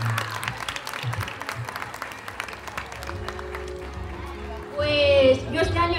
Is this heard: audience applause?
yes